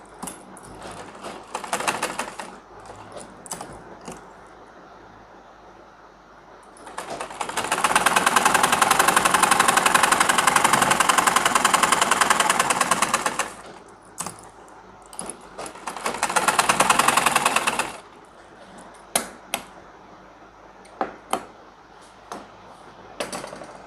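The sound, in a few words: sewing machine stitching a pajama pocket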